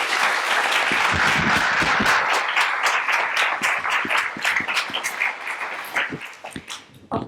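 An indoor audience at an artist's talk gives sustained, dense applause that stays loud and even, then thins toward the end, with a few scattered claps trailing off.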